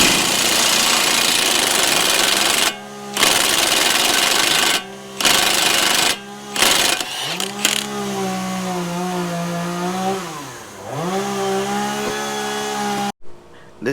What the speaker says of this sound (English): before I go any further, I want to take the knuckle bolt loose